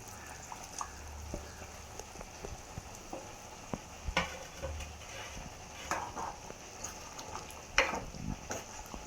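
Mashed boiled elephant foot yam stirred into a curry in a pot, quiet bubbling and sizzling with scattered scrapes and taps of a spoon, fairly faint and without voices.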